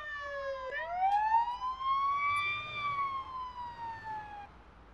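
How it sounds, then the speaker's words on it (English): A wailing police siren in the video game Police Simulator sweeps up and down in pitch, loud and steady over a low background rumble, with no talking. "all those sirens are annoying me."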